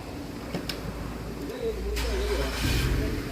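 A car engine cranks and catches after a power steering bleeding procedure, a brief starter whir followed by a low, steady idle rumble that swells slightly, heard close with no talk over it.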